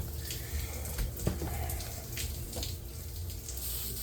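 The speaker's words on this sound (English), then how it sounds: "See water coming out of the other side of the coil" Water spraying and dripping through the coil of a Dometic ducted rooftop AC unit on a diesel pusher RV, a steady splashing rush with scattered drips, close and continuous.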